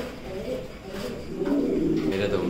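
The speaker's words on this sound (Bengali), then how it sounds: "এই যে কবুতর দেওয়ার সাথে সাথে ডাকে চলে আসছে নরটা।" A male Mundian pigeon coos in low, throaty rolling calls close by, with someone talking over it.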